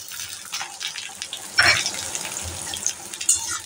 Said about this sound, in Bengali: এবার এটাকে খুব হালকা আঁচ করে একটু লাল লাল করে ভেজে নেব